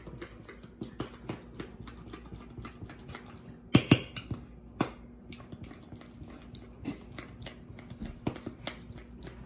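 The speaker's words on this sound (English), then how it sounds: "We just basically stir it until most of the lumps are out." A spoon stirring lemon zest into sour cream pound cake batter in a bowl, making faint, uneven scraping and clicking against the bowl with a couple of sharper knocks.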